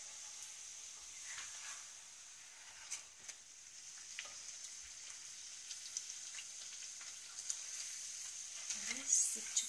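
Kuttu flour puri frying in hot oil or ghee, a faint steady sizzle with light crackles and pops, heard softly and alone.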